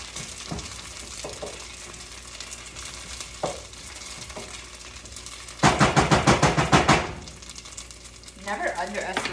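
Onions and garlic are stirred in a frying pan for homemade marinara, soft sizzling under a few scrapes, then a burst of rapid rhythmic scraping and clattering near the end.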